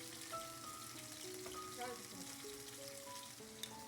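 Sliced tomatoes frying in oil in a pan give a quiet, steady sizzle with crackles, while faint background tones drift underneath.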